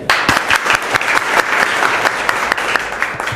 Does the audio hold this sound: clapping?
yes